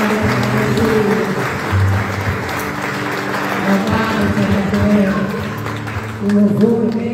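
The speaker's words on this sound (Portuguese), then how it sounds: "E que as palmas louvem o nosso Deus." A church congregation claps in praise during a Sunday worship service, steady sustained applause mixed with music and voices throughout, swelling near the end.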